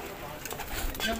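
Pigeons cooing in a pigeon loft, soft repeated throaty coos close by, heard under a man's nearby speech.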